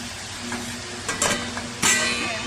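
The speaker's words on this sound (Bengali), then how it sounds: "কুমড়ো শাকটা গ্যাসেই বসিয়ে দিয়েছি। চিংড়ি মাছ দিয়ে এটা বসিয়েছি।" Pumpkin greens with shrimp cook on a gas stove, a steady sizzle and fry with a few louder stirring scrapes and spatters close by.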